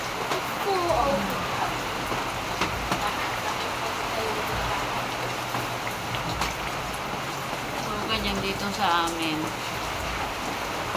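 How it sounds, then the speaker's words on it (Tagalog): Heavy rain pours steadily with gusts of wind during a flood, a dense continuous wash of sound that runs the whole time while someone talks over it close by. "Pag bumuhos ang ulan, tuloy-tuloy yun."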